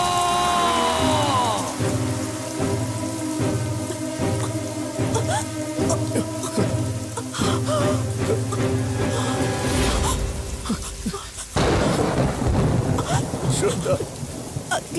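Rain and thunder in a dramatic movie scene: steady downpour hiss with low rumbles, partly under music and dialogue, then heavier rain noise toward the end.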